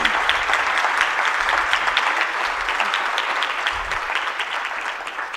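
A conference audience at a members' forum breaks into a sustained round of applause, steady dense clapping filling the room at an even level throughout with no one speaking.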